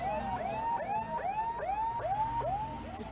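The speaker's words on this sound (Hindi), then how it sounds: "दमकल की गाड़ी यहाँ पर आ चुकी है।" A fire engine siren arriving at a vehicle fire amid traffic, a rapid repeating wail cycling about every half second, fairly close and steady over a low street rumble.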